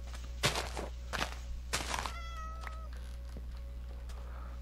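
A cat gives one short, fairly faint meow midway, set among a few soft thumps and knocks over a steady low indoor hum.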